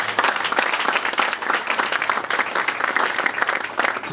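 A church congregation applauds steadily, a dense, continuous wash of many hands clapping together at close range, holding an even level without pause.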